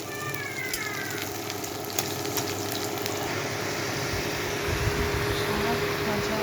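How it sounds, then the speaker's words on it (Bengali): Red amaranth and water spinach frying in a pan with garlic, chilli and onion, a steady sizzle under a constant fan-like hum, with a few faint high squeaks and small clinks. "শাক ভাজা হচ্ছে, লাল শাক আর কলমি শাক মিশিয়ে দিয়েছি।"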